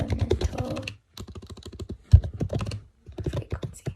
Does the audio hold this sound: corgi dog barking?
no